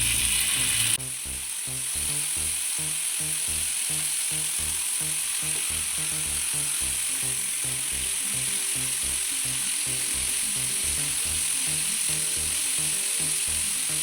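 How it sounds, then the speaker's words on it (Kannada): Fish sizzling steadily in a pan of reused frying oil, a loud continuous crackle with a faint rhythmic pulsing under it and no voices. "ಫಿಶ್ ಫ್ರೈ ಮಾಡ್ತಾ ಇದ್ದೇನೆ"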